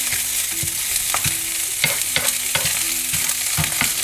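Salmon frying in a pan for cream salmon spaghetti, a steady loud sizzle with a low hum beneath and repeated scraping and tapping of a utensil stirring the fish; no talking.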